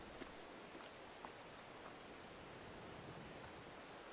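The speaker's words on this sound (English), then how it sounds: "Yeah, it's starting to rain." Steady rain in Farming Simulator 22 forms a faint, even hiss with a few soft drop ticks, constant and without any other sounds.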